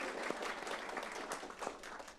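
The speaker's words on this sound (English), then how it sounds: "We'll give a clap for Max" Steady, faint applause from an audience at a school board of education meeting, a soft wash of many hands clapping for a couple of seconds with no talking.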